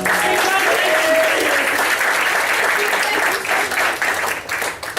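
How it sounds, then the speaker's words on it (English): An audience at a pageant-style stage show applauds a first runner-up, loud sustained clapping with a few cheers that begins to thin and taper near the end. "Round of applause, ladies and gentlemen."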